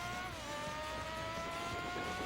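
Car engine in Gran Turismo 4 holding a steady, sustained whine with stable harmonic tones, loud and continuous throughout with no talk over it.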